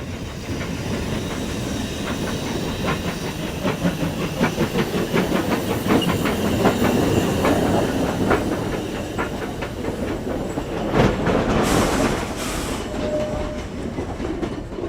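A Furka mountain railway steam train climbs the last grade before Muttbach station, its loud, steady hiss and rolling wheel noise continuous throughout with rhythmic clicking, and a louder steam burst near the end.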